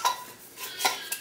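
A fork stirs dry baking ingredients with baking soda in a bowl, making a few quick metallic clinks and scrapes close by over just over a second.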